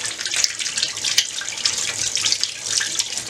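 Tap water runs hard into a kitchen sink while potatoes are washed under it, a steady splashing hiss with small shifts as the potatoes move in the stream.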